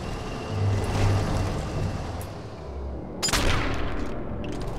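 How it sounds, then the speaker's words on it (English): A Panzer tank in Sniper Elite 4 rumbles in with a low, grinding engine drone, under distant bursts of gunfire and sharp impact cracks around it. "That is a full-on Panzer."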